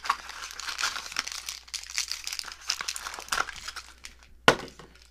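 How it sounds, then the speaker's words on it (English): Foil blind-bag packets of Minecraft chest series minifigures being torn open by hand, a close, busy run of crinkling and rustling with a sharp rip near the end. "So we're just going to rip these to shreds."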